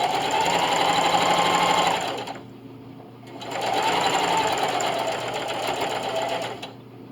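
A sewing machine runs a straight stitch at length 2.5 along the middle seam of heart-shaped table runner pieces, with two steady close bursts of rapid stitching split by a short pause.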